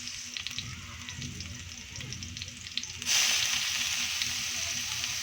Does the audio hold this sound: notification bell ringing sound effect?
no